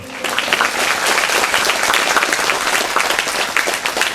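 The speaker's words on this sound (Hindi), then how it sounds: "ये मर्द लोग ताली बजा के परमेश्वर को स्तुति करो" A church congregation, the men in particular, claps steadily in praise during a Christian worship service. The dense, even applause is close and continuous for a few seconds.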